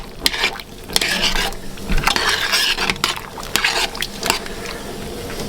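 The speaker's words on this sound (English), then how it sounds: "I've just popped in the pasta, and I'll give that a bit of a stir so it doesn't stick together" Pasta being stirred in a pot of water, a spoon scraping and swishing against the pan with clinks and liquid sloshing, close up and fairly busy, no talk.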